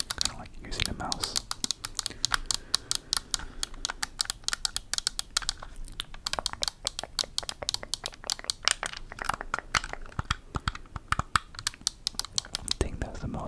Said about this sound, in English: I think that's the most satisfying sound from this controller, or with this controller, just the triggers.